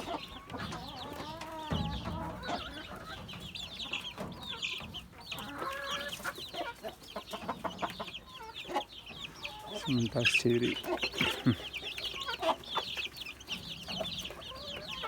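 Chickens cluck and squabble in a backyard coop while being fed egg yolks and scraps, their calls scattered and close under a person talking and laughing.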